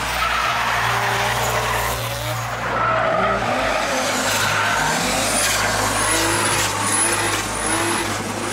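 A turbocharged BMW 325i drift car skids hard, tires squealing in long wavering howls over a deep engine drone, with rising and falling pitches as it slides, loud and continuous.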